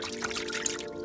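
Water trickling and pouring steadily inside a Mercedes S500 car, a continuous splashy dribble heard close up over a faint background drone, with no talk.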